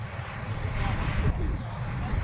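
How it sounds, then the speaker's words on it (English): Model scale jet aircraft flying at an air show, a continuous engine roar in the distance, heard under a public-address voice talking. "are going to put on a fabulous display of scale jet flying"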